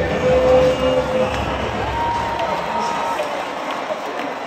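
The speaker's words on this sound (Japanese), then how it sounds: "歓声が上がっております。" A baseball stadium crowd cheers in the final inning, a broad roar of many voices heard from the stands, with nearby speech over the sustained noise.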